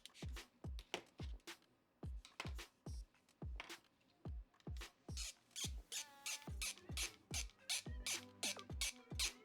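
A screw squeaks as it is driven into tight plastic holes on a Voron Clockwork 2 3D-printer extruder, giving quiet, close, repeated short squeals and clicks in a steady rhythm with each turn.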